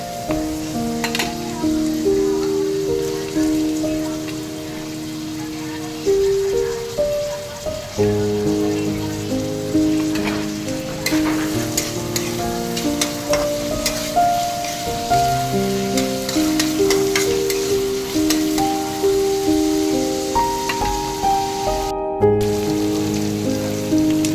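Chopped onion fries in hot oil in a kadhai, crackling with a loud, continuous sizzle and scattered pops, while background music plays over it.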